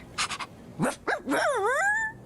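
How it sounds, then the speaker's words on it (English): A pet dog gives a few short, close yips and barks, then a drawn-out whining, wavering howl-like bark at the end, loud and alone. "Now, my dog barked."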